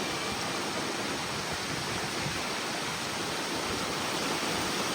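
Heavy rain pours down outdoors over an open cooking spot, a dense, unbroken hiss that stays loud and even throughout, with no voices.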